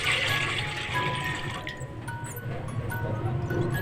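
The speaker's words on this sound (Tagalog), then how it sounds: "Maglalagay tayo ng tubig." Water pours into a cooking pot for dinengdeng with duck, a gurgling, splashing stream that shifts in pitch as the pot fills, close up with faint background noise.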